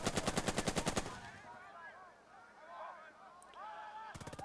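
Gunfire in the WWII tactics game Burden of Command: a rapid, evenly spaced machine-gun burst, then a lull with faint whistling and battlefield noise before another burst starts at the end.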